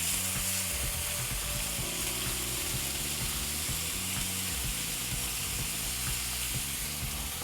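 Peppers and other vegetables stir frying in a pan give off a steady, busy sizzle and crackle, with occasional scraping and stirring clatter and no voices.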